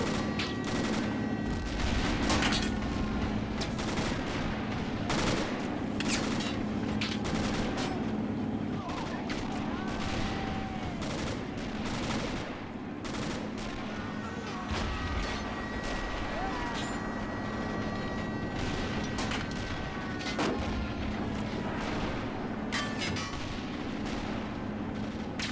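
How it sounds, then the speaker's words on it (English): In a video game depiction of a German naval assault on Crimea, a warship shells beach defenders, and repeated booming artillery blasts and sharp gunfire crack across a sustained battle din. The shots come at irregular intervals, some close and loud, with faint voices underneath. "It's shelling the defenders."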